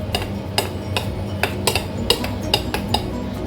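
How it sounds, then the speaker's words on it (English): Marshmallow batter tinted with rose syrup being mixed in a bowl, a utensil knocking and scraping against the bowl in a quick, fairly regular series of clinks over a low background hum. "Then mix it well."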